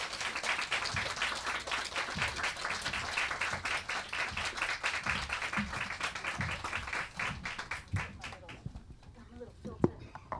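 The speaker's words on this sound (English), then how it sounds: "receive them with an applause." Audience applause at a Latinx Caribbean heritage panel, a dense steady burst of many hands clapping that carries for about eight seconds before thinning out into scattered claps and room noise.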